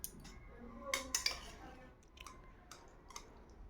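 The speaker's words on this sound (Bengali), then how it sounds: "দেখো তরকারি দিচ্ছি" Curry served onto a plate with utensils in a home kitchen: a few close metallic clinks and scrapes of spoon against dish in quick bursts, followed by softer scattered taps.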